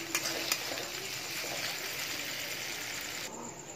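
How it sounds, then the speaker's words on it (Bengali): Stone-ground garlic and ginger spice paste frying in a pan, giving a steady, close sizzling hiss with a few faint stirring clicks. "যেহেতু এটা শিলে বাটা মশলা, আমি একটু কষিয়ে নেবো মশলাটাকে"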